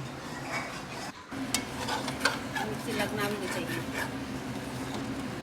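Chicken pieces being stirred and mixed in a pot with onion, garlic and ginger paste while cooking chicken biryani, with scraping and clinking of a utensil, a soft sizzle underneath and a voice talking over it.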